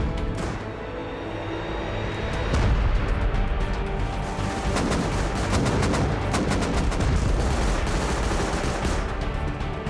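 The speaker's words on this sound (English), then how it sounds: "Just, Rigo, just start blasting their base." Gunfire and rockets during a base raid in the Rust video game: a loud, continuous barrage of rapid shots and heavy booms that intensifies partway through, dense with overlapping bursts.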